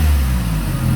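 A car engine in a workshop, still warming up during a lambda reading, runs steadily and close by with a low, continuous rumble, in a brief stretch without clear speech.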